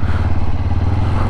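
A Kawasaki KLE500 enduro motorcycle rides along with a steady, close engine drone and some rattling clatter, heard alone.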